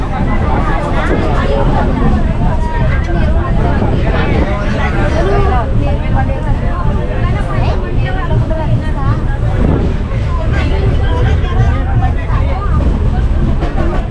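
Dense, loud hubbub fills a crowded general compartment of the Diva passenger train, with overlapping voices and steady rumbling train noise throughout.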